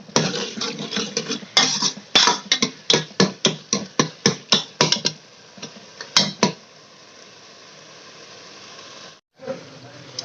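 Minced meat keema fries in oil while a spoon knocks against the pan in a fast run of sharp, loud clacks, then the clacks give way to a steady sizzle that continues under the stirring.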